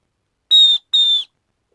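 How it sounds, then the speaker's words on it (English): Two short, shrill keychain whistle blasts in quick succession, each about a third of a second long, loud and close, with silence around them. "You have what I'm thinking is a whistle."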